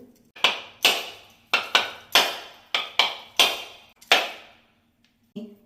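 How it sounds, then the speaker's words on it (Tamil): A coconut is struck again and again to crack it open, about ten sharp, hard knocks in an uneven rhythm, each ringing briefly, close by and clear, followed by a short pause. "இப்போ வந்து நம்ம வந்து தேங்காயை உடைக்க போகிறோம்"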